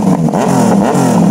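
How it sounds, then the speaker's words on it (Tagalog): A Yamaha 900 GT motorcycle fitted with an Austin Racing full exhaust system revs hard up close, a loud throaty roar rising and falling in quick blips with no pause. "Ang unit ni Sir Bryle ay naka Yamaha 900 GT na naka Austin Racing full system"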